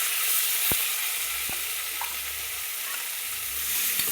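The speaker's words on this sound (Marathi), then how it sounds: "कांदा बघू शकता तुम्ही आता. मस्त तेलात पडतायचं." Chopped onion fries in hot oil, a soft, even sizzle close by with a few sharp clicks of a spoon against the pan, and no talking.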